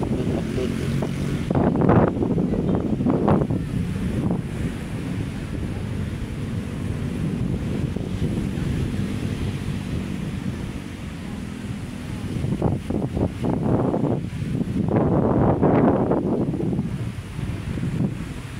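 Steady roar of wind and crashing surf at Manila Bay, with heavy waves surging loudly at intervals against constant buffeting wind on the microphone.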